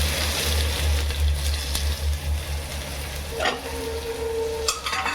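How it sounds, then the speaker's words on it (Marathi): Cumin, ginger-garlic paste and chopped onion fry in a pan with a steady, close hiss of sizzling oil, broken by a couple of sharp clinks from a utensil near the end. "आपण आता जिरा टाकू अद्रक आणि लसणाची पेस्ट टाकू आणि हे कापलेला कांदा टाकू"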